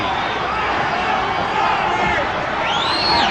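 A boxing arena crowd at a WBC super bantamweight title bout roars and chants a fighter's name, a loud, sustained wall of massed voices with a rising cheer near the end.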